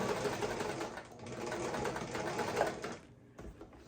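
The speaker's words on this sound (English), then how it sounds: "And then we will finish out the top stitch down this long edge." A sewing machine top-stitches along the long edge of a waist apron. Its steady, fairly quiet mechanical whir runs continuously, then eases off near the end, and there is no talk.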